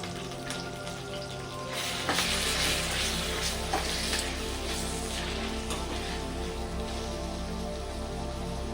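Steady sizzling and crackling of food frying in a pan for palak chicken curry, continuous and fairly close, growing a little louder partway through.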